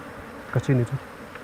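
Honeybees at an opened beehive hum loudly in close, brief buzzing bursts that rise and fade over a low background.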